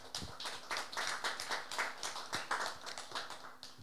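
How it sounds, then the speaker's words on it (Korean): Audience clapping for a speaker at a natural fiber forum during a ramie cloth cultural festival, a steady dense patter of many hands filling the room at moderate level. "다시 한번 우리 이문순 조합장님께 큰 박수 부탁드리겠습니다"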